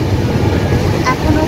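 Steady rumbling roar of the Duranta Express, the SMVP Bengaluru service 12245, heard from inside a moving carriage, continuous and loud with a brief higher rattle partway through.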